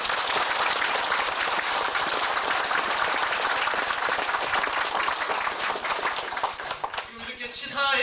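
An audience at a 1995 political party founding rally in Songpa, Seoul, applauds warmly, a dense, continuous burst of many clapping hands that fades near the end as a voice begins speaking.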